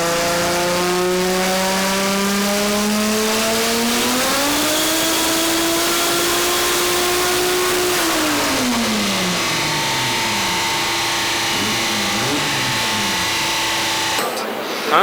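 A turbocharged Mazda Miata with a front intercooler and a 7 PSI spring boost turbo revs on a dyno, its loud engine note climbing, holding, then falling and settling before cutting off abruptly.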